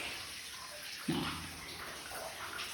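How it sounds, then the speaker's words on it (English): Rushing water from a waterfall roars in a continuous broadband wash, with a brief splashing surge near the middle. "So I'm almost at the waterfall now, as you can probably hear"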